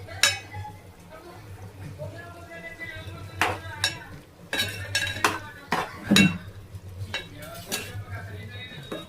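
A spoon stirring chicken curry with coriander powder in a pot, scraping with repeated metallic clinks over a soft steady sizzle.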